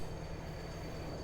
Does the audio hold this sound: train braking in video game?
yes